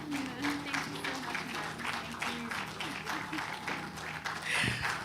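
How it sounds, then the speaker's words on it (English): An audience applauding at the end of a speech at an event in Nigeria: a steady, dense wash of many hands clapping for several seconds, moderately distant, with crowd murmur beneath. "Can we make that applause bigger and louder?"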